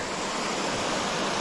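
Creek water flows in a steady, broad rushing wash, close and even, with no talking.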